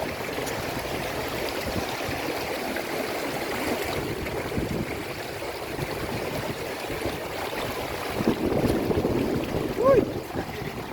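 The river at Reggae Falls, Jamaica, rushes steadily as a broad, continuous churn of flowing water that sits close and moderately loud, with faint voices beneath it.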